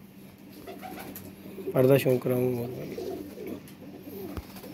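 Pigeons give a few soft, throaty coos in a short burst, close by, while someone talks quietly over them.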